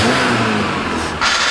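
MG car with a faulty gearbox revving hard as it pulls away, a loud, steady mid-pitched engine drone that dips briefly and then surges back near the end, close by with no talk.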